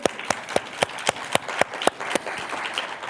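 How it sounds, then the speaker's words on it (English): An audience applauds author Rita Roberts at an evening author talk: sharp, evenly spaced claps stand out early, then blend into a denser round of clapping that carries on steadily. "Give her a round of applause"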